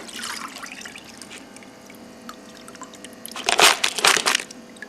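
Metal parts are rinsed in water after hydrochloric acid pickling ahead of zinc plating, with trickling and splashing water close by that grows into louder sloshing bursts toward the end.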